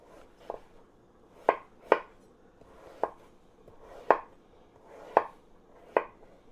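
Knife chopping on a cutting board while preparing Jamaican chicken soup, giving about eight sharp, distinct thuds in an uneven rhythm, close and fairly loud with no talk.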